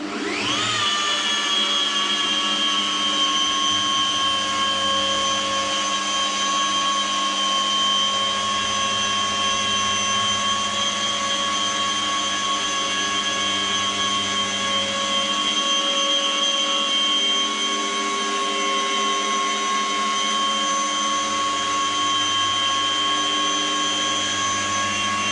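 A rotary polisher runs continuously on a car panel, a loud, steady high-pitched whine with stable harmonic tones lasting the whole time, no voices present.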